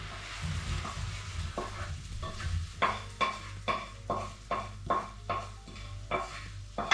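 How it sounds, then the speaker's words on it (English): Mushrooms sizzle in olive oil in a pan while a utensil stirs them, giving a low frying hiss broken by a series of regular scraping strokes that grow more frequent. "cook the mushrooms until they are cooked through, and you want to mix them once in a while so that they cook evenly"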